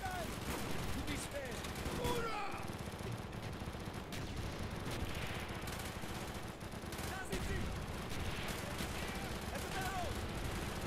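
Rifle shots crack in a Call of Duty Black Ops World War II campaign battle where a Mosin sniper rifle is in use, repeated reports layered in dense ongoing gunfire and explosions.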